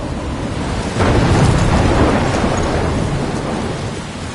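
A thunderstorm in the video game Life is Strange: a deep, loud roll of thunder swells after a second and slowly fades under a constant wash of heavy rain, with no voices.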